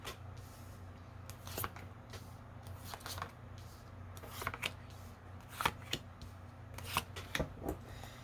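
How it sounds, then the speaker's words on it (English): A tarot deck is cut and shuffled by hand in a series of crisp card riffles and slaps that come in short separate bursts over a low steady hum, close and fairly quiet, with no speech. "let's go ahead and cut the deck"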